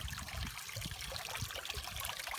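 Water trickles and dribbles steadily into a small garden goldfish pond driven by a pump, a faint, continuous close-up burble with no voices.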